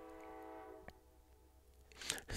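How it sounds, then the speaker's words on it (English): A train horn sounds faintly in the distance as a held, steady tonal blast that fades away, followed by a couple of sharp nearby knocks and rustles. "we got a train in the house"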